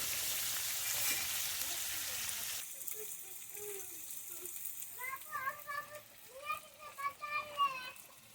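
Fish frying in hot oil in a pan during rural home cooking, a loud steady sizzling hiss for the first few seconds, then cut off abruptly as voices, including a child's, take over.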